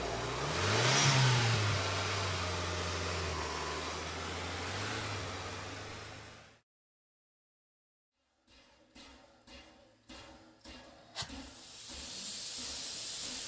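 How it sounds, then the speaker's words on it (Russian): A car engine revs and hisses as the vehicle pulls away down a dusty slope toward a river, loud at first and fading, then a pause and a series of sharp intermittent knocks and clatters. "И машина запылила вниз к речке."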